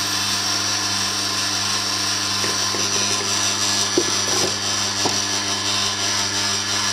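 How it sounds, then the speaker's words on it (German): A Tormek wet sharpener turning a Blackstone SB 250 grinding stone, a steady hum with a constant abrasive hiss as metal is ground, marked by a few faint scraping ticks. "Da sieht man, dass der Stein wirklich Material abnimmt und dass hier ein Schleifvorgang stattfindet."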